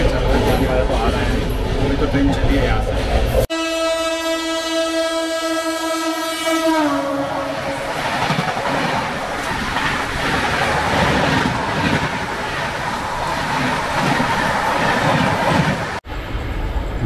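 A train horn sounds loudly for a few seconds as a train departs Najibabad railway station, then the rumble and clatter of the moving train builds and continues steadily, with voices faintly in the background.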